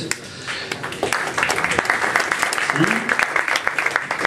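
A conference audience in Paris applauds as a speaker is welcomed, with dense clapping building after a moment and continuing steadily while a voice talks over it.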